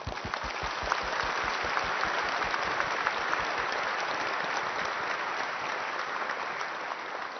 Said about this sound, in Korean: 대통령님께 격려의 박수를 전하는 게 어떨까요?